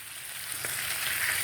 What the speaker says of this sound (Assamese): মাছ ভাজা হোৱালৈকে তেনেকৈ উল্টাই উল্টাই